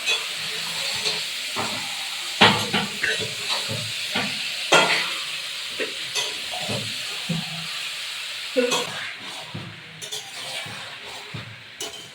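Chicken sizzles in mustard oil while it is sautéed as Bengali kosha, a steady loud hiss broken by repeated spatula scrapes and stirs, with a voice speaking now and then.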